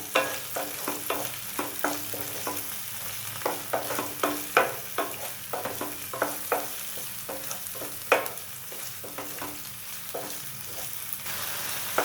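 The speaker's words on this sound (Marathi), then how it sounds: "टोमॅटो पण व्यवस्थित परतून घ्यायचे।" Chopped tomatoes sautéing in a pan with onions for Malvani-style suran (elephant foot yam) bhaji, a continuous close sizzle broken by frequent rhythmic scrapes and clacks of a stirring spoon against the pan, with no voices.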